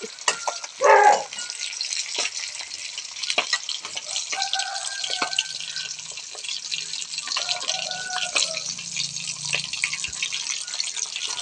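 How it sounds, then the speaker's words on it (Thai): Snakeskin gourami fish frying in oil, a continuous crackling sizzle with popping drips and brief clinks, heard up close with no voices. "นี่เป็นการทอดปลาสลิด ทอดปลาสลิด"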